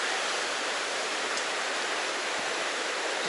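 The Chattooga River runs shallow over rocks, giving a steady, even rushing hiss of moving water with no breaks.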